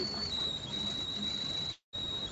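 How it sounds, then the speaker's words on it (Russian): A steady high-pitched whistle, like a tea kettle, sounds continuously over low room noise, cuts out briefly near the end, then resumes. "У кого там чай свистит или что?"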